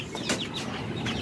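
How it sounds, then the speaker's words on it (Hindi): A rooster in a farmyard coop lets out a few short, close clucks and squawks in quick bursts over quiet background, with no one talking. "मुर्गा देखें, मुर्गा ये रहा, मुर्गी अंदर टप के अंदर बैठी हुई है"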